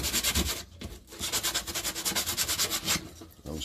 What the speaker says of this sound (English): we grab our bit of sandpaper, we can just give it a good sand down